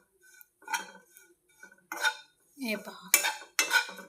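Grated coconut dry-roasts in a pan until golden for Gokak kardant, with a spatula scraping and clinking against the metal in irregular bursts separated by short pauses, close by; a voice speaks very briefly.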